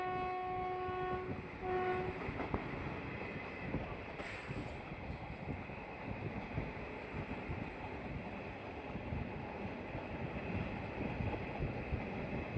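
A passenger train on the Bhuj to Rajkot line runs with a steady, loud rumble and rattle of wheels and carriages throughout, a horn-like tone sounding briefly near the start, with no voices.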